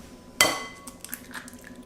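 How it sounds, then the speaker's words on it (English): An egg is cracked against a bowl for a vegetable omelette sandwich, one sharp close crack followed by a few faint, light clicks and drips. "While cooking, break the eggs."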